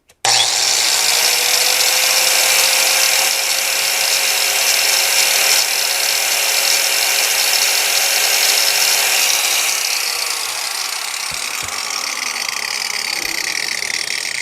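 Harbor Freight angle grinder rated at 11,500 RPM runs at full speed, a loud, close, steady high-pitched whine that starts abruptly and holds almost unchanged, easing slightly near the end.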